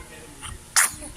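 One short, sharp sneeze bursts out close by against a quiet background.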